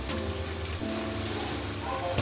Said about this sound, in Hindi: ऑयल डालने के बाद इसको अच्छे तरीके से भूनना है।